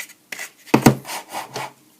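A bastard file rasps by hand across plastic in a handful of short, dry, scratchy strokes, close and fairly loud, with small gaps between them and no talking.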